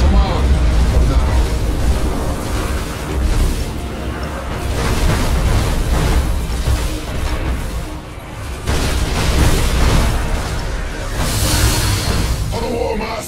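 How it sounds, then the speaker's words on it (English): Space battle in the game Battlefleet Gothic Armada 2, with loud, dense gunfire and booming explosions rolling continuously, and voices heard throughout. "Gunfire is unleashed!"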